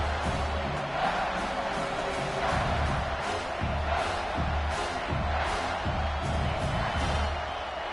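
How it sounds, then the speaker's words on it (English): A stadium crowd at a football game roars steadily as fans back the defense in the red zone, a sustained wash of cheering that fills the whole stretch. "The crowd getting behind this defense as they try to get a stop in the red zone."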